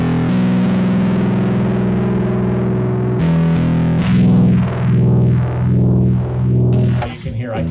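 An electric guitar played through phaser and distortion effects rings out in sustained, gritty chords, then a sweeping phaser begins whooshing up and down in steady waves.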